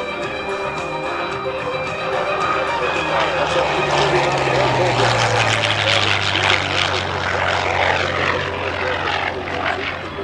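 A World War II warbird propeller airplane passes at an air show, a loud sustained engine drone rising and then falling in pitch as it goes by, with crowd noise and a public-address voice underneath.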